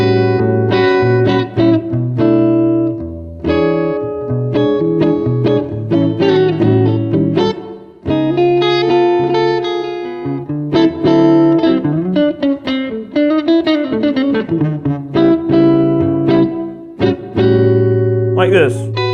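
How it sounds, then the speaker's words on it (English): Electric guitar with effects strumming and letting ring sustained 13th chords, several repeated voicings with pauses between, close and loud, no talking over it. "A normal 13 chord sounds kind of like this."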